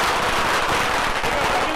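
Firecrackers crackle in a dense, continuous loud barrage at a college victory celebration, with voices mixed into the noise.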